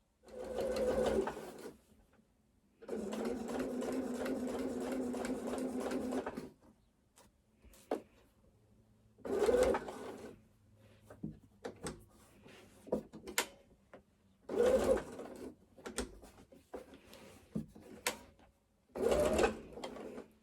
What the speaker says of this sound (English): I'm going to baste it on my machine. So just a long stitch length just to keep it in place.